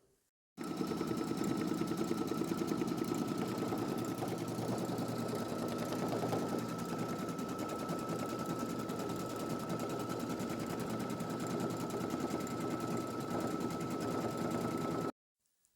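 An embroidery machine stitches a dragon design, its rapid needle chatter running steady and unbroken from start to finish, moderately loud with no voices.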